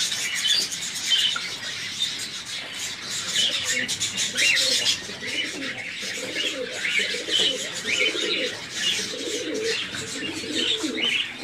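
Soft cooing and chirping from several young double-crested pigeon squabs, continuous and close, with a steady hiss of background noise underneath.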